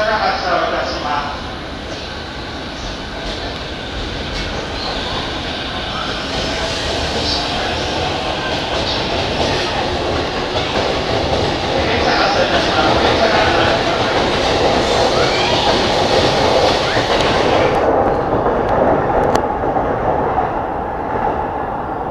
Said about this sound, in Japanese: 列車指定の快速電車が発車をいたします。